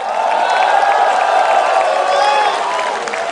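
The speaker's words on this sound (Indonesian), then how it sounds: "Tepuk tangannya dahsyat, penuh rasa cinta." A large crowd applauds and cheers at an Indonesian political gathering, with loud, sustained clapping and whoops mixed with voices throughout, and a steady level from start to finish.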